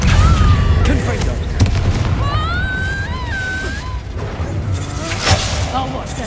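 Confringo blast spell explosions in a Hogwarts Legacy battle, heavy booms and bursts amid gunfire-like crackling and whooshing effects, with a voice speaking briefly over the din.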